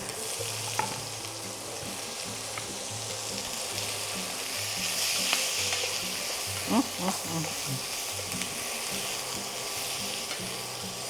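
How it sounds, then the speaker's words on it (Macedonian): Bell pepper and onion fry in a pot with a little oil, giving a steady, close sizzle with a few scraping stirs and light clinks throughout. "Малце ќе исчистам тенџерето и продолжиме со пржење зеленчуците."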